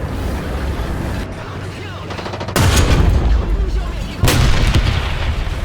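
Tank cannon fire in War Thunder, with a Chinese M4A4 Sherman, two heavy booming shots a couple of seconds apart over constant engine rumble and battle noise.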